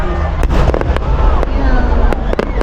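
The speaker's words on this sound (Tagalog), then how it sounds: "Sa Pinas kailan kaya magkakaroon ng ganyang kagandang fireworks sa Pinas, no?" Large fireworks exploding at a festival in Japan, with a dense rolling barrage of booms and sharp crackling pops in quick succession, loud and close, while people talk over it.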